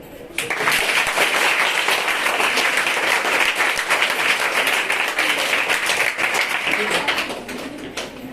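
Audience at a health and hygiene awareness program breaking into loud, sustained applause, dense clapping that starts abruptly and carries on evenly for several seconds before tapering slightly.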